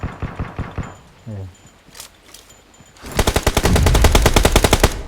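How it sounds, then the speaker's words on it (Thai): Automatic gunfire between players in the PUBG Mobile battle royale game, with a dense, loud burst of rapid shots in the latter half after scattered single shots and brief talk early on. "เดี๋ยวให้มันยิงกันก่อนให้มันยิงกันก่อน"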